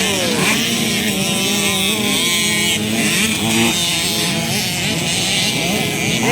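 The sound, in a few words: 50cc motorcycles racing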